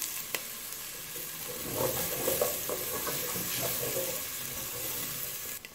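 Steady close sizzling of onion frying in a pan, with soft stirring scrapes, continuous and moderately quiet.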